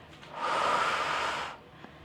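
A single long, close breath during a beginner Pilates core exercise, a steady airy rush lasting about a second with no talking over it.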